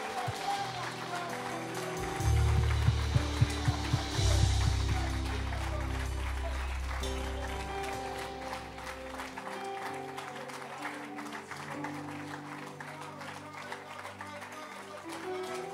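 A church congregation breaks into a burst of applause and acclamation during a worship service, loud and crowd-wide at first, then fading under a preacher's voice and continuing music.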